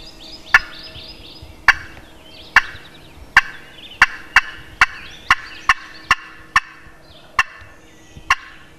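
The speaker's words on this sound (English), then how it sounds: "They're gobbling, they're moving." Wild turkeys gobble repeatedly in a morning hunting setting, a dozen sharp loud calls in an irregular rhythm that bunches up mid-stretch, with faint birdsong in the background and no talk.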